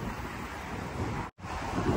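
Gusty wind blows across a street on a cold, sunny day in South Korea. It makes a steady broadband rush that stays loud throughout, with one brief dropout, and no one speaks.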